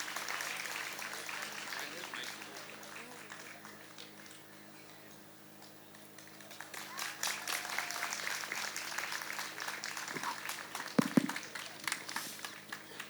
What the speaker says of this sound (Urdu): دونوں فنکار آپ کی خدمت میں داستان تقسیم ہند لے کر بھرپور تالیوں کے ساتھ ایک بار پھر حوصلہ بڑھا دیں۔